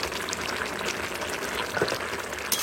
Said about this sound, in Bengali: ওই যে ঢাকাটা খুললাম,